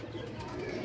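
Pigeons at a pigeon sale in Sarai Alamgir, Jhelum, Pakistan coo softly in a brief, low, murmuring burst, close by and moderately quiet, with faint background noise.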